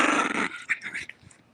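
A small dog growls in a low, rough rumble that trails off into softer grumbling and whines, close by and with no talk over it.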